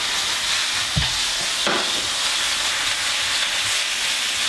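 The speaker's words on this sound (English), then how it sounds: "Now we'll put that on the stove and let it finish cooking." Turkey mix frying in vegetable oil in a pan on a stove, a steady loud sizzle with a couple of brief clatters from stirring, no voices.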